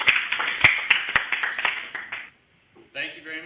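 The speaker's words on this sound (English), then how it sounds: "if you could unmute and clap, please." Students unmuting on a video call to clap give a run of sharp, uneven claps for about two seconds, compressed and a bit thin, then a brief lull before a voice starts talking.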